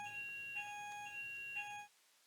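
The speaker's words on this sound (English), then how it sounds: "this is a test of my fire alarm" A fire alarm under test sounds a series of shrill electronic beeps in a quick, even rhythm, then stops, leaving near silence.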